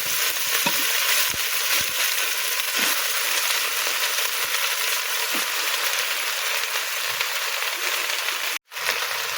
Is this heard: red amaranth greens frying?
yes